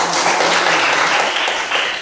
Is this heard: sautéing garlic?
no